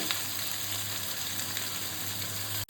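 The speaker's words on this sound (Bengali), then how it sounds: "সমস্ত কিছু এখন তেলে একটু হালকা ভেজে নিতে হবে।" Paneer recipe ingredients frying lightly in oil, a moderate, even sizzle with a low steady hum beneath, broken by a brief sharp click just before the end.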